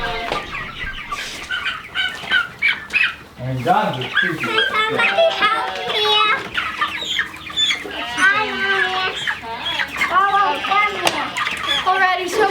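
Meat chickens, young birds being loaded onto a floorless chicken tractor on pasture, cluck and cheep in a busy, continuous chorus close by, with people talking over them.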